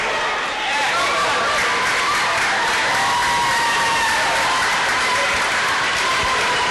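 A light crowd at a basketball game in a gymnasium gives scattered applause and cheering, a moderate steady wash of clapping and voices while a commentator talks over it.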